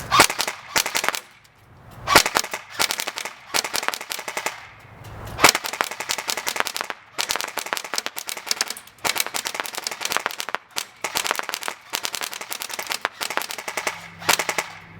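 Dboys RK01 AMD-65 airsoft rifle firing BBs at a target in rapid bursts of sharp full-auto clatter, loud and close, with short pauses between strings of shots and no talking.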